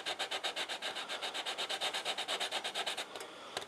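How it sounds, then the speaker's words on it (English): Steady rhythmic rubbing of a finger against a vintage speaker cone under repair, about five strokes per second, close and fairly loud, stopping near the end with a last faint rub. "I've just got my finger behind there firmly, rubbing on the speaker cone to try and meld it together"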